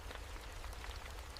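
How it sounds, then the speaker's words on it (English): Gentle night rain falling over a jacana nest on water, a soft continuous patter of scattered drops with low ambient rumble, quiet and steady without voices. "As night falls, a gentle rain tests the resilience of the nesting jacana."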